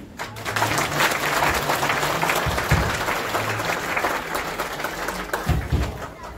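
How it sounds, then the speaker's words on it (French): A church congregation claps for visiting guests, steady broadband applause filling the room throughout, fairly loud and sustained with a few louder bursts, no voices over it. "nous avons demandé à l'Assemblée à applaudir les visiteurs"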